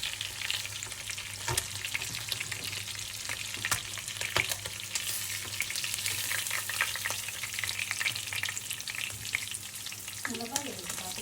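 Mackerel scad fish frying in hot oil: a constant crackling sizzle with scattered pops and spits, heard close and steady throughout, with a brief clink of utensils near the end.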